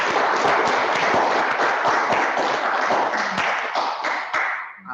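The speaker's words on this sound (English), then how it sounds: "So I think that deserves a round of applause." A small audience in the Ullswater Valley gives a round of applause for an outgoing chairman, a loud, dense burst of close clapping that holds steady before fading out at the end.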